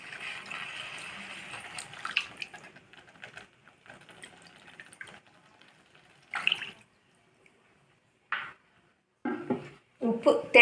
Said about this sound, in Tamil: தண்ணி ஆட் பண்ணிவிட்டு